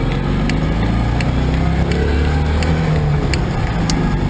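A car driving along a road near Castleford at dusk, heard from inside the cabin as a steady, loud engine-and-road rumble that continues unbroken.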